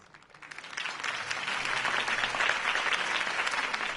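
Crowd applause in the video game Batman: The Telltale Series swells quickly from quiet and holds as a dense, steady clapping roar from many hands.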